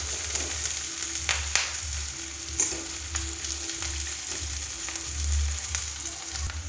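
Chopped onions frying in a pan, giving a steady, moderate sizzle throughout with a couple of faint stirring clicks, close by and with no talking.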